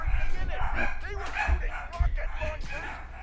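Dogs bark and yip in Marvel's Spider-Man, short sharp bursts repeating over a few seconds, mixed under talking voices and game sound.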